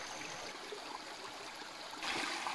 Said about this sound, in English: And this creek cascades down that.